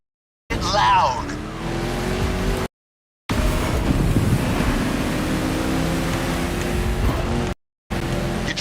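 A 1969 Ford Mustang Boss 429 in the racing game The Crew 2, its engine roaring loud and close with rising revs and tire noise, broken by brief gaps of silence.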